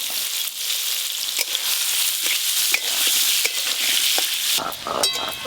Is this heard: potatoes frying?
yes